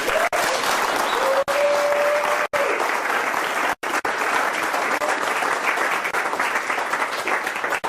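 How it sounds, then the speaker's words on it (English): Warm applause from an audience for speaker Jerome Garrison at an MB30 Movement event, steady full clapping broken by a few brief dropouts, lasting about eight seconds with a faint voice underneath. "another round of applause for Jerome"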